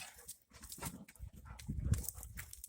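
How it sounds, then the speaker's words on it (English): Dogs wrestling and playing on top of a person, heard close as soft scuffling, thumps and low growly snorts in short irregular bursts, louder toward the end of the short stretch. "my dogs are wrestling on top of me"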